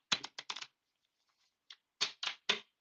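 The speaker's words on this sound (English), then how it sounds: "Let me shuffle this one more time" Tarot cards are shuffled up close in a few quick riffling bursts, a cluster of crisp flicks, a pause, then several more short snaps, with no voice.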